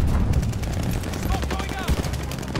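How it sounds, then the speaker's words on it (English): Bombing run in the Call of Duty Vanguard video game: loud rapid bursts of gunfire mixed with booming explosions, a heavy low rumble underneath, all crowded close together over a few seconds. "Bombing run, heads up."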